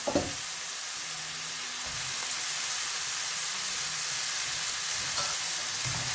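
Pasta stirred and fried over high heat in oil in a pan, a bright continuous sizzle with a few soft clinks and scrapes of the spoon near the start and end, close and without voices.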